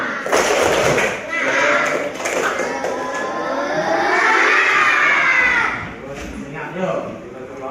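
Schoolchildren in a classroom do a group clapping chant, loud claps and thumps mixed with shouted voices in rhythmic bursts, close and lively, with a teacher's voice among them.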